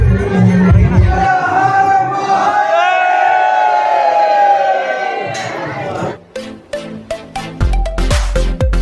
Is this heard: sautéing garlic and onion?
no